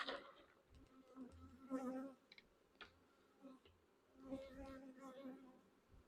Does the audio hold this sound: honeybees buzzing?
yes